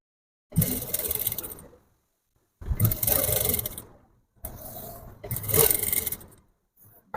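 A tailor's sewing machine top-stitches the lining of a blouse in four whirring runs of a second or so each, separated by short silent pauses, close and clear with no speech.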